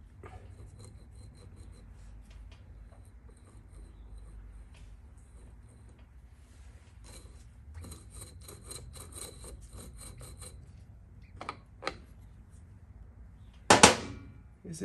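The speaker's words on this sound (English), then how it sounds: "I think it's rubbing against that little holder for those wires." A rhythmic scraping rub from a 1979 Honda Z50 motorbike's flywheel catching on a small wire holder, faint and repetitive, with a few sharp knocks and a loud clatter near the end.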